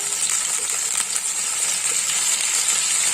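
Turmeric frying alone in hot oil for a boal fish curry, a dense continuous sizzle and crackle, close and steady throughout with no talk.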